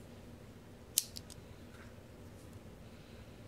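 A guillotine cigar cutter slices through a Gurkha Cellar Reserve 15 cigar with a single sharp, close snip, followed by a couple of faint clicks over low room hum.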